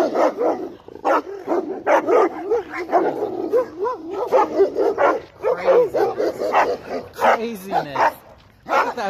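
Several dogs bark in rapid, aggressive bursts close by, going after a man's dog being walked, with yips and whimpers mixed into the repeated barking and a person's voice among the commotion.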